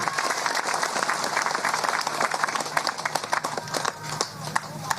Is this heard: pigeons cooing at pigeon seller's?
no